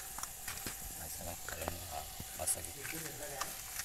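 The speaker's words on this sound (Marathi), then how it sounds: "हे कौल फ्राय मला माहित होतं पण त्याच्यावरती अंडी अशी मी पहिल्यांदाच बघतोय" Twelve eggs sizzle and crackle on a hot clay roof tile over an outdoor fire in a Konkan village, a steady bed of frying hiss with scattered pops, faint voices in the background.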